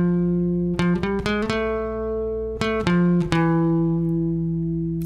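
Acoustic guitar picking a lead riff from a song, ringing single notes sustaining over a low droning tone with several sharp plucks in a short phrase, played alone without talk.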